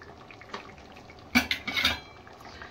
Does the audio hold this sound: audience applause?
no